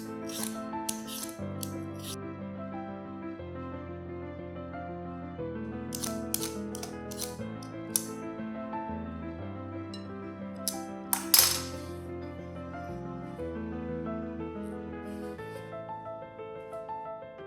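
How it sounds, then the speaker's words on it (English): Potatoes being peeled for a Chinese shredded potato dish, sharp scraping strokes at irregular intervals, faint and close, under steady background music. "Start off by peeling the potatoes."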